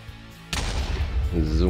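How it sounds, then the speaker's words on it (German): A sudden booming blast erupts in Minecraft after a quiet lead-in, loud and close, trailing into a rumbling decay while a voice starts talking over the end. "So, das war seine Explosion."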